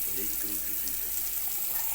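Cold water streams steadily from a newly installed electric instantaneous heating tap, a constant close hiss of flow into a sink, with a faint voice underneath.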